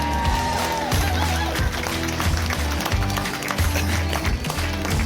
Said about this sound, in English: Go on, have a round of applause.